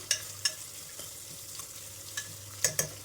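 A masala for tomato bath frying in a pan gives a faint, low sizzle, broken by a few sharp scrapes and taps of a spoon being stirred, with a cluster of quick clinks near the end.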